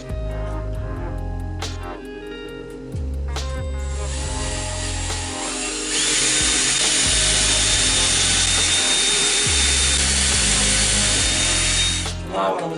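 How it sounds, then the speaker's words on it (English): Power drill boring holes in the center of marked circles on wood for VIP car tables, repeated whirring bursts with pauses between, then a long loud continuous drilling run, close and alone. "I'm gonna go ahead and drill holes in the center of the pillar circles."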